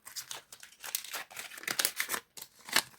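A paper surprise packet is torn open and unwrapped: irregular crinkling, rustling and tearing of paper close to the listener, in uneven bursts with brief pauses and no speech.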